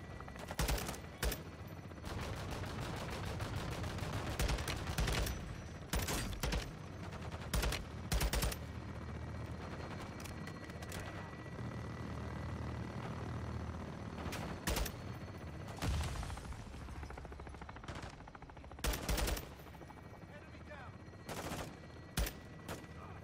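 Call of Duty Modern Warfare 2 combat: dense, continuous automatic gunfire and repeated sharp bursts over a low rumble, with radio chatter in places, loud throughout.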